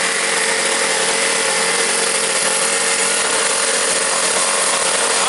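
A two-stroke engine in a quarter-scale 1934 Coupe model car runs continuously at high revs, a loud, buzzing drone that holds steady throughout with no voices over it.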